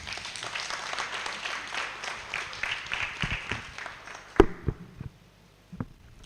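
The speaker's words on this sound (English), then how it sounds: "Please give her another round of applause." Applause from a conference audience at a sustainability product launch breaks out after a speech, a lively clatter of many hands that thins out and fades, with a few scattered louder claps and a near thump at the end.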